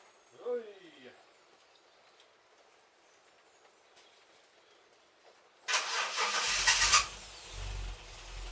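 A Ford Granada 3.0GL automatic cranks and fires up after a stretch of near silence, then settles into a loud, rough idle close by. A brief squeaky sound comes early on.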